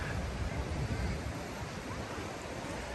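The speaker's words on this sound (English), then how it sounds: "at the crowded beach" Ocean waves roll in at a crowded beach, a constant broadband wash of surf mixed with some wind rumble on the microphone, with no clear speech.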